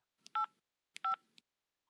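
Two quick presses on a phone keypad produce crisp dual-pitched tones, each with a soft click, separated by a short pause in an otherwise silent room.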